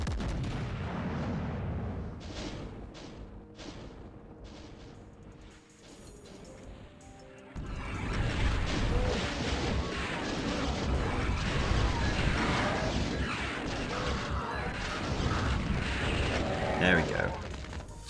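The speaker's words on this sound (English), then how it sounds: "So much BFG ammo, I can just be completely wasteful with my shots like that." Heavy blasts and explosive energy-weapon fire from the BFG in the Doom mod Eviternity II, map 34 "Annihilate Me", erupting loudly and continuously over dense combat noise, with someone talking throughout.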